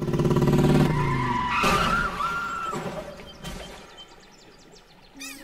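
A motorbike accident in a South Indian action movie, with loud tires skidding and squealing against a roar of engine noise, then the sound thinning out before a final sharp burst.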